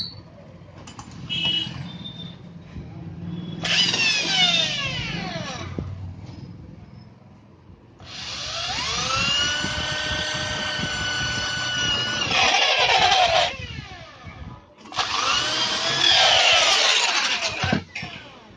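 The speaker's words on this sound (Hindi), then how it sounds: "ये देखिए एक इसमें सुराख हमने कर लिया" An electric drill bores holes in the motor mount of an air cooler with a GC motor: three loud whirring bursts of rising and falling pitch, separated by quieter handling clatter and pauses.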